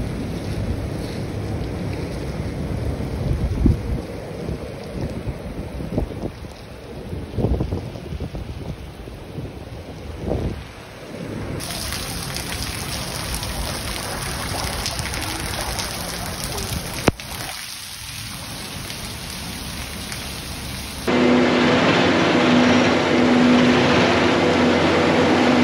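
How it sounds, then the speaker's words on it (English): Heavy rain pours steadily behind farm barns while drainage water runs and gushes, a continuous broad wash with a few nearby knocks and thumps, louder in the final stretch. "We got a couple clips of it just pouring rain and the drainage working away"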